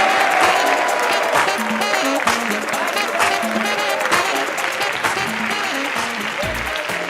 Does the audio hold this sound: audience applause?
yes